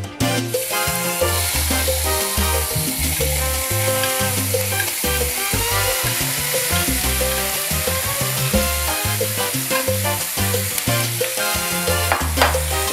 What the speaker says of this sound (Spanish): Y vamos a dorar nuestra carne.